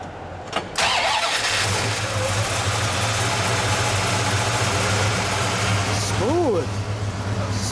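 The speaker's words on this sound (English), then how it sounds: "Let's start her up." A 1973 Plymouth Road Runner V8 engine cranks and catches, then settles into a steady, deep idle rumble close by, with a brief voice near the end.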